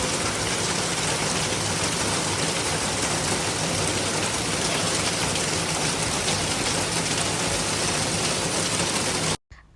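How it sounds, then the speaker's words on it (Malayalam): Heavy rain pours down at a nature resort in Wayanad near a pool, a loud, unbroken roar of drops that cuts off abruptly at the end. "പിന്നെ ഭയങ്കര മഴ വന്നു."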